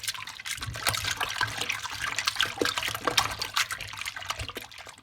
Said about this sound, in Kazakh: Жуған сайын көбігі азайып, шек қарын тазалана береді.